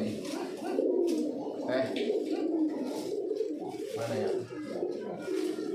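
Pigeons coo in low, rolling, repeated calls close by, continuous throughout, while a person talks over them.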